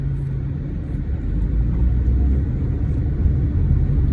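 Steady low road rumble from car traffic heard from inside a vehicle on the way home, a continuous engine and tire drone with no voices.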